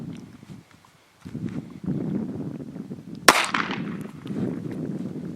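At an outdoor shooting range a single pistol shot fired one-handed cracks out sharply, a lone loud report amid quiet shuffling and low background noise.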